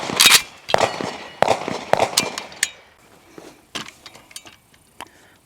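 Five rifle shots ring out in a quick, evenly spaced string for a five-round group on a target, loud and sharp, each followed by a short echo, with faint clicks and handling noises afterward.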